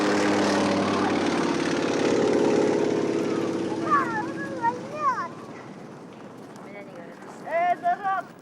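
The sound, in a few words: Antonov plane taking off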